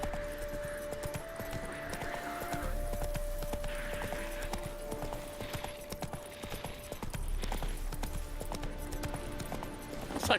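Roach the horse's hooves clip-clop steadily in The Witcher 3, a continuous rhythmic trot mixed under a dense game soundscape with sustained musical tones and ambient clatter, moderately loud throughout.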